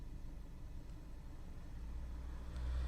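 A 2010 BMW 318i E90 with an N43 engine, suffering a rough idle that cuts out, is driven along the road. A steady low road and engine rumble comes through, quiet throughout and swelling slightly louder in the final moments.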